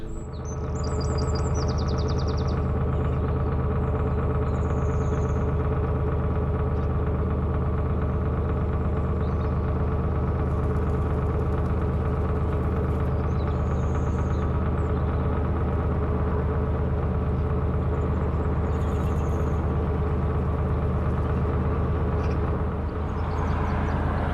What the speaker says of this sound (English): There's that annoying rattle started up again.